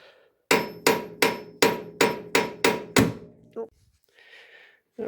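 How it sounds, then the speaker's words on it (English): Hammer tapping on a stuck part of the power steering pump on a 1973 Chevy Monte Carlo: eight evenly spaced, ringing metallic blows, close and loud, followed by a short clunk and faint rustling. "see if I can get in to tap on it with a hammer a bit"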